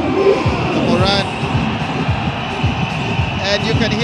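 A basketball crowd cheers and roars for the Kenya team during an arena game against Botswana, a steady wash of voices under a commentator's talk, with ball bounces thudding rhythmically on the court.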